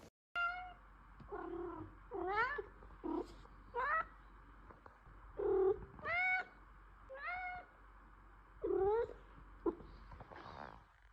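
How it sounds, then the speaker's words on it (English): A Maine Coon cat meows softly and gently, about nine short rising-and-falling meows spaced in a loose rhythm, close and alone in a quiet room. "their meows and vocals are so soft and gentle"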